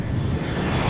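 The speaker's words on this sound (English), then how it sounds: "Embraer is arriving." An Embraer 175 jet airliner arriving at Amsterdam Schiphol, its engines a steady, loud broadband roar that fills the whole second without a break.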